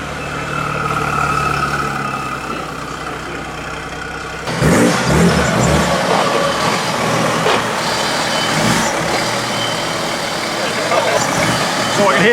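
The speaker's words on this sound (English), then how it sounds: "So I can hear the big intake." A Racingline Stage 2 VW Golf R Mk7 with a big intake, hybrid turbo and 535 injectors: a steady engine drone that jumps into louder revving with intake roar partway through, with voices around it.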